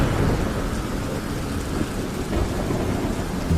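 Heavy rain pours steadily with a dense, roaring wash and low rumbles underneath, continuous and loud throughout.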